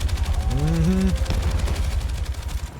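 Sustained, rapid machine-gun fire from the Battlefield 6 video game rattles on loudly and continuously, with a brief wailing tone rising over it early on.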